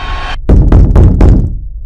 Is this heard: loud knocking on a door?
yes